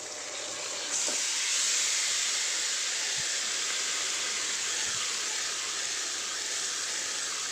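Marinated chicken poured into a hot pan, bringing a sudden jump into a loud, steady sizzling hiss that holds evenly for several seconds, close by.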